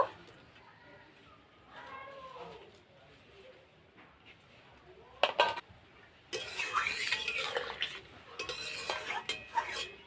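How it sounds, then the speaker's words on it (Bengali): Drumsticks and beans being dropped into a cooking pot with water for shukto, a short clatter and scrape of metal followed by a loud, busy stretch of stirring and pot noise, heard close after a stretch of quiet talk. "দেখুন এবার আমি সজনা ডাঁটা আর বিনসটা দিয়ে দেব।"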